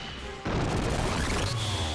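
Fire Seraph angel attack in the Xenogears role-playing game, a sudden loud crashing burst that kicks in after a quiet start and roars on steadily, with a thin ringing tone rising late.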